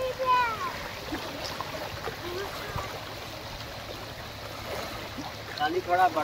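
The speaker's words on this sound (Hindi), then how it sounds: "यहाँ एक छोटी सी नदी चलती है" Small river flowing at a crossing where a motorcycle and people wade across, a steady broadband rush of moving water continuing throughout, with voices and children talking over it.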